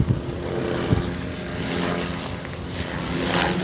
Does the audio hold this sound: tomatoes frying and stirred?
no